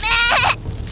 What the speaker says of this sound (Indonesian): Suara mengembik domba kecil itu berasal dari sebelah sana.